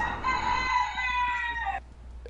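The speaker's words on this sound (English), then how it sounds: "Oh, it's a chicken." A rooster crows loudly once, a long drawn-out call nearby, over a low background hum from indoors, with chickens outside the door; the call ends abruptly and quieter sound follows.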